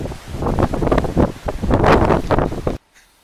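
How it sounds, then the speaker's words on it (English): Strong wind gusting through trees ahead of a storm, loud buffeting roar with rustling that surges and falls for a few seconds, then cuts off abruptly. "Look at the trees. It's like really windy."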